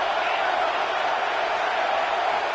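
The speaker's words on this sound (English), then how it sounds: "And here comes the noise. This crowd is trying to inspire this defense to make a big red zone stop." Roaring football stadium crowd during a red zone defensive stand, a dense, continuous wall of cheering and shouting that holds steady and loud throughout.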